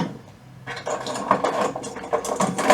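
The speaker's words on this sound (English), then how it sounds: "We are going to clamp it like so." A clamp ratchets tight on a miniature asteroid base with a rapid string of close mechanical clicks and grinding, starting after a brief quiet moment and continuing steadily to the end.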